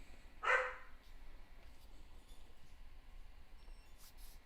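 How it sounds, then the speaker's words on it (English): A dog named Dusk gives a single short bark near the start, fairly close and distinct, and then only a quiet room hum remains with no further barking. "She's just barking at air, like the air."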